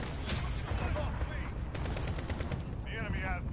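Automatic gunfire from a recoiling gun in a PS4 shooter, with rapid shots in a steady burst under chaotic game effects at moderate loudness. A person talks over part of it.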